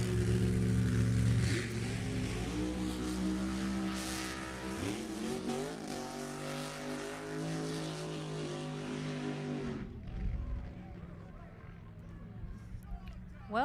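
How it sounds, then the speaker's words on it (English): Drag racing burnouts at Sacramento Raceway: a 1969 Camaro and a 1965 Valiant side by side, loud engines roaring and revving steadily for about ten seconds, then dropping away as the cars reach the far end. "Well, they made it all the way to the finish line in the burnouts."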